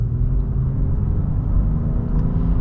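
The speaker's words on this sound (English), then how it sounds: "We'll get a partial acceleration here." A 2020 Acura MDX with a V6 under partial acceleration, heard from inside as a steady low engine rumble and whir, continuous and fairly loud without speech.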